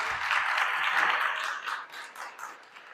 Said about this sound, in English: a round of applause for our DV advocate, Rachel Silverstein.